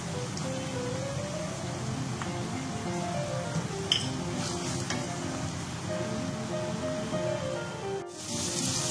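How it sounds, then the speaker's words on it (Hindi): Minced meat fries with garlic and ginger in a pan, giving a steady, close sizzle with occasional stirring scrapes and clicks and no talking. "लहसुन अदरक शामिल करने के बाद 2 मिनट्स के लिए हमने इसको भून लिया।"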